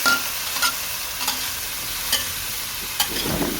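Bottle gourd stir-fried in a pan with shallots, garlic, chili and a little water, giving a steady soft sizzle with a few sharp scrapes and clinks of a utensil stirring against the pan.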